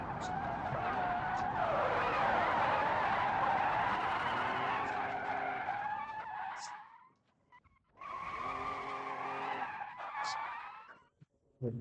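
Tires squeal loudly in a long continuous skid as a car slides in a video game crash-driving session, cutting out briefly before a second screeching skid, with engine tone underneath.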